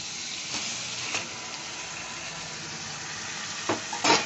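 Marinated chicken going into hot oil in a pan for a green chili chicken dish, giving a steady close sizzle with a few scraping stir strokes near the start and louder clattering pushes at the end.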